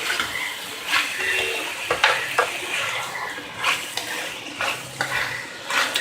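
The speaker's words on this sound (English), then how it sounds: "Give this a good mix. Let all the veggies get coated with this sauce." Vegetables being stirred in a pan to coat them in sauce, wet squelching scrapes in repeated strokes with faint sizzling underneath, close and clear with no talking.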